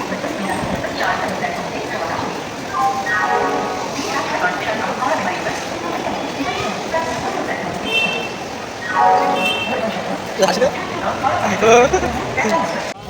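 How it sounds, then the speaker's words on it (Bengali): Busy platform ambience at Howrah railway station: crowd chatter and shuffling footsteps, with occasional rail clatter and brief tonal signals in the distance. "আমরা এখন স্টেশনে আছি, হাওড়া স্টেশনে"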